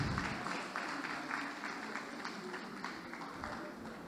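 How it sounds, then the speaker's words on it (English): University lecture audience gives a round of applause for lecturers, faint, steady clapping from many people heard at a distance across a large hall. "please, a round of applause for them"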